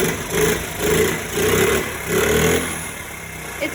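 A restored 1972 Honda Z50 mini trail bike with an 88cc big-bore engine runs close by, its small engine surging and falling in four rhythmic pulses before settling to a quieter idle as it begins to choke off.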